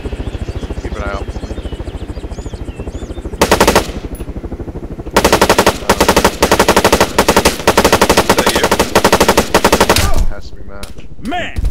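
Automatic weapon fire in the military shooter ArmA 3 comes in loud, rapid bursts, with a long sustained stretch in the middle and a background of battlefield rumble and chatter.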